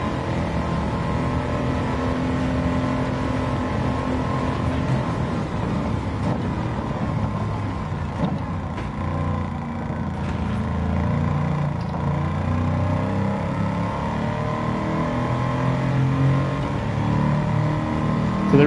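A Toyota Tundra with a swapped engine revs and drives in the Gran Turismo 7 racing game, a steady, loud engine drone with rising and falling revs that runs without pause. No talk is heard over it.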